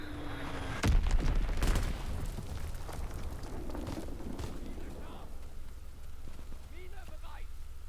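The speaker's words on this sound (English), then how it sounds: "Incoming enemy artillery." Enemy artillery shells exploding in a video game: a loud booming blast early on, followed by rumbling debris and scattered smaller impacts fading into the background.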